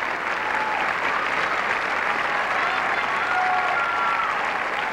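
Audience applauding the finalists at an international Latin ballroom dancing championship final, dense sustained clapping from a large crowd filling the hall throughout.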